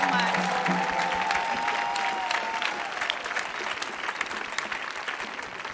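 An audience at a Millennium Stage concert applauds in a dense, sustained wash of clapping that gradually thins out.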